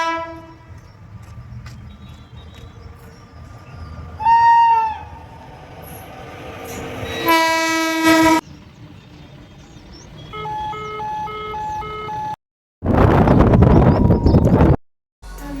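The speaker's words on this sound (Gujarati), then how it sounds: "આજે પહેલી વાર આપણને આ ટ્રેન જોવા મળી છે" A train passes a level crossing with its horn sounding in several loud blasts, mixed with rumbling rail noise and a heavy close roar near the end, with no talking.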